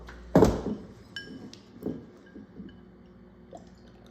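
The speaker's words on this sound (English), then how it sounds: "So let's pour. We'll start with the dry Riesling and the Seyval." Dry Riesling and Seyval wines are handled at a winery tasting: a sharp glass clink opens, followed by softer taps and faint liquid sounds in a quiet room.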